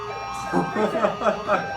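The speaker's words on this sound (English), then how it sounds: "Working siren." A small electronic toy siren wails close by in quick rising-and-falling sweeps over a steady tone.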